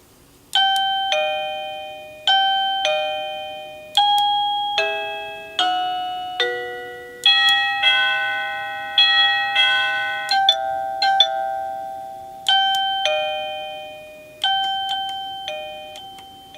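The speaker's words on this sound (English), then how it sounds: "One of them allows you to change the ringtone and one allows you to change the volume." A series of electronic doorbell chimes, each a short bright melody of ringing tones, played one after another with brief pauses between them.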